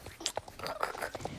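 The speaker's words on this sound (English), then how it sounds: "if you hear crunching, my horse is now eating hay" A horse crunches and munches hay, soft and close, quiet and irregular, with faint rustling.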